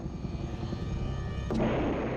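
Soviet military helicopter in flight during the war in Afghanistan, a continuous rotor and engine roar that turns louder and harsher partway through.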